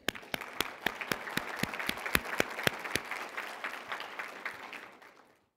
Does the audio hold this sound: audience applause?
yes